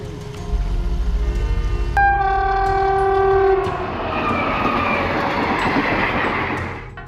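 A train roars past, its horn sounding loudly in a sustained chord before giving way to the rushing, rattling clatter of cars passing close by, then fading slightly toward the end.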